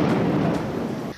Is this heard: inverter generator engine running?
no